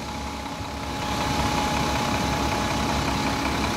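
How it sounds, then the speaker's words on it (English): A 2002 Dennis Trident bus with Alexander ALX400 body idles on its Euro 3 Cummins engine, paired with a ZF fully automatic gearbox: a steady, close, throbbing diesel rumble that swells slightly after the first second and holds even, with no talk. "Euro 3 Cummins engine at the business end, that's driven through a ZF fully automatic gearbox"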